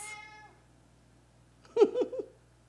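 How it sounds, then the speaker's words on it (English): A pet kitty gives a brief fading cry, then after a pause a louder, close meow broken into a couple of quick wavering notes. "That's my kitty."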